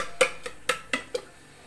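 Boiled chickpeas and potato are mashed inside a pressure cooker: five light, evenly spaced metallic taps and clinks of a utensil against the pot over under two seconds, close and fairly soft, with no talking.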